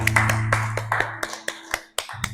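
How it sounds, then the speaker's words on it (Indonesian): Small group applauding in an Indonesian broadcasting and film class, a quick patter of sharp, uneven hand claps over a couple of seconds, close by, with a faint hum underneath. "Oke, tepuk tangan untuk videonya."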